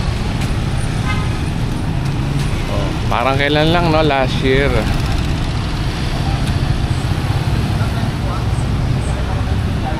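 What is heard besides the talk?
motorized tricycle ride on road in Zambales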